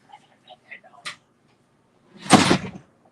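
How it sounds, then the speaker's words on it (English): A single loud door slam inside a motorhome, a sharp bang with a short rumbling tail, preceded by faint light knocks and small movement sounds. "He's going to slam the door"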